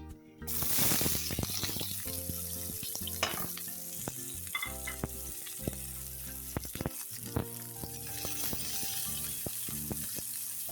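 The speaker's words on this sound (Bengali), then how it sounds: "আমি এটি ভালো করে ব্রাউন করে ভেজে নেব।" Garlic and onions frying in oil until brown, a dense steady sizzle up close with frequent clinking stir strokes and spoon scrapes throughout, no one talking.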